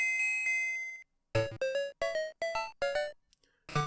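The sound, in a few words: bell collected in Super Mario Land 2 video game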